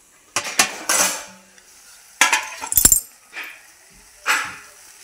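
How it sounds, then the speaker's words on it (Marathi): A lid goes onto a cooking pan of raw lentils and flower vegetable, with several sharp metallic clinks and clatters spaced across the moment, a bright rattling cluster in the middle, all close and with no talking. "याच्यात डाळ कच्ची टाकलेली, त्यामुळं 2 मिनिटासाठी असं झाकण ठेवून घ्यायचं।"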